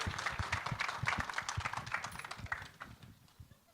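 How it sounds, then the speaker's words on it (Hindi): Applause from the audience at a film-announcement event, with scattered, uneven claps close by that thin out and fade toward the end. "थोड़ी तालियां बनती हैं यार."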